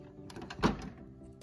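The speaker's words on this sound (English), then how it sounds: "So you have a door that opens." The bathroom door of a vintage Barbie Totally Real House toy dollhouse swings open with a single brief plastic click and rattle, close by, in a quiet room.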